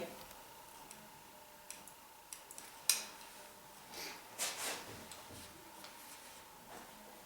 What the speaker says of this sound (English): Okay, I'm just going to hold this hair like this and go in with my scissors this way.